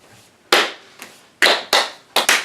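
Sharp hand claps, close and loud, come in an uneven series of about six strikes, some single and some in quick pairs, each decaying briefly into a quiet room with no speech.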